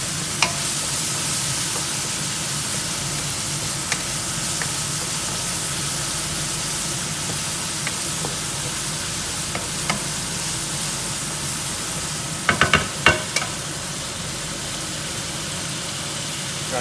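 Ground pork sausage frying and crisping in a pan, an even, continuous sizzle with a low background hum and a short cluster of spatula scrapes toward the end.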